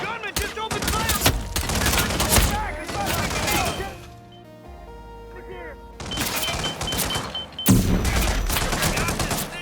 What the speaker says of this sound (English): Gunman just opened fire!